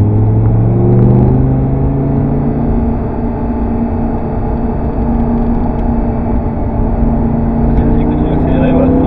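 An Audi R8 V10 race car accelerating on the Castellet circuit, a loud, continuous engine drone heard from inside the cabin, rising in pitch with steady rumble throughout and no clear gaps.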